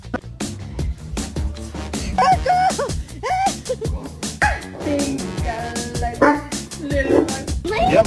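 A dog barks and whimpers in rapid, irregular bursts, with yips and whiny cries close by, while people talk over the commotion.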